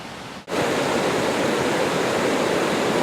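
The Big Quilcene River rushes loudly and steadily beside a hiking trail toward Marmot Pass, a dense unbroken roar that cuts in abruptly after a brief dip.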